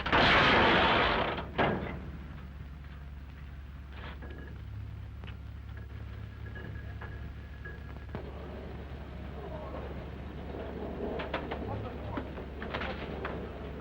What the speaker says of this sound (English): the ejection gun is loaded with a full charge, which will propel the seat as much as 60 feet into the air in a second